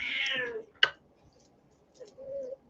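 A cat meows loudly at the start with a long, falling cry, then a sharp short sound, followed later by a second, softer meow.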